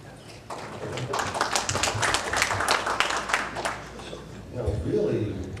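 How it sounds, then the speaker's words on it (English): A thin, patchy round of audience clapping at a county executive debate, moderately close and uneven, rising and dipping over several seconds with voices underneath. "Really weak applause throughout the program so far."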